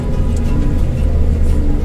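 A Daihatsu Terios (All New model) climbs a steep hill road in second gear, its engine droning loud, close and steady for a short moment, with no one speaking.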